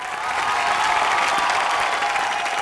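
A TV comedy show studio audience claps steadily and loudly for a singer, a dense wash of applause with faint crowd noise underneath.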